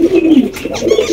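A pair of Bombay pigeons cooing up close, a loud, low throaty coo in two rolling phrases with no one talking.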